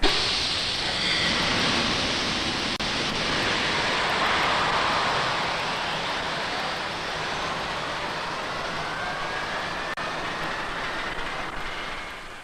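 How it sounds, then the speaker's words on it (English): A broad, steady roar of jet airplane engine noise rumbles continuously, with a faint rising whine and no voices. "This attacks jet roar at its source, the airplane engine."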